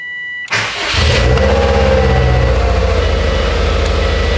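A Subaru WRX engine cranks and catches with a sudden burst, then settles into a loud, steady, throbbing idle close by, with a rapid even pulse continuing to the end.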